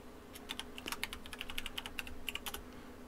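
A password is typed on a computer keyboard while installing Docker on Ubuntu 21.04, with quick clusters of close, crisp key clicks and short pauses between bursts.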